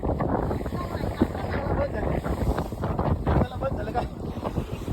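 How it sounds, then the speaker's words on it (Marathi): Strong stormy wind at sea during fishing off a rocky shore buffets the microphone in a steady roar, with rushing air and water noise throughout and no clear voices. "वारा बघा वारा"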